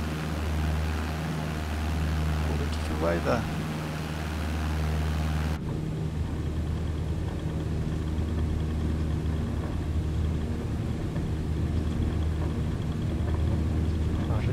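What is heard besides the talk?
aircraft engine at full throttle for takeoff, Microsoft Flight Simulator 2020 video game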